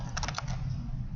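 Typing on a laptop keyboard during an introductory programming session, a short cluster of about five quick key clicks early on, then fading into a steady low room hum.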